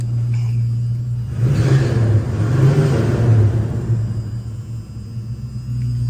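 A Cougar muscle car engine revs up and holds a deep, steady rumble, then eases off slightly; loud and close, no voices.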